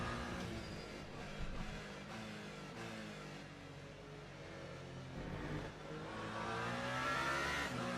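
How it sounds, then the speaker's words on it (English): A Toyota prototype race car at Portimao in the Le Mans Ultimate racing game, heard from on board: a loud, steady engine drone with rising and falling revs through gear changes, continuous and with no talk over it. "Let's go on board and have a listen to that Toyota engine."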